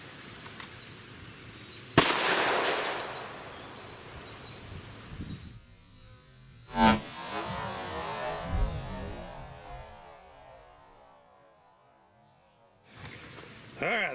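Outdoor gunshots from Federal HST rounds, .40 S&W and .357 Sig, fired into chickens turned sideways; a sharp blast is followed by a long rustling tail, then a second crack with more rustle and wind noise, and a faint voice underneath.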